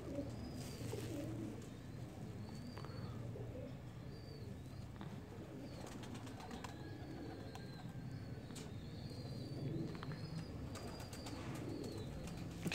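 Soft pigeon coos repeat over a low background hum, with occasional faint chirps and flutters nearby.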